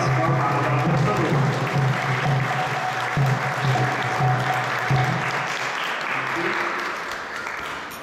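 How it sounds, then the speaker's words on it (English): A lecture audience at ISKCON Toronto gives a sustained, loud round of applause to welcome a speaker, the dense clapping filling the whole stretch and tapering slightly at the end. "please join me in giving a thunderous round of applause for Mahabhagavat Prabhu."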